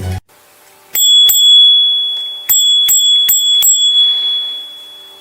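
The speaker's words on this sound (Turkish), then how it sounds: "Bisikletin zili işte böyle çalar" A bicycle bell rings several times in quick bright dings, two strikes then a faster burst, each leaving a clear metallic ring that fades out.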